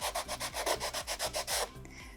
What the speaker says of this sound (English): take your sanding block and go along the edges